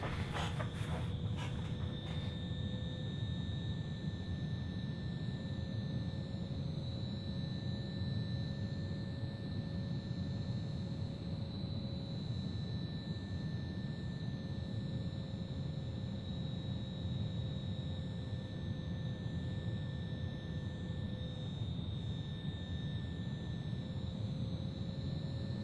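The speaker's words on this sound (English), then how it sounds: "The throttles have advanced, and now we're back into climb at 250 knots." Boeing 737-800 engines in a flight simulator game hold a steady, continuous drone with sustained whining tones through the climb, even and unbroken.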